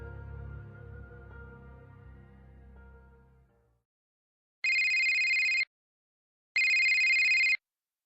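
A telephone rings twice, two long electronic trills separated by a short pause, following a fading stretch of low background sound.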